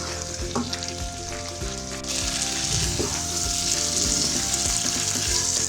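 Potatoes and green beans sizzle and fry steadily in ghee in a pan, a continuous close hiss with occasional stirring scrapes, growing slightly louder partway through.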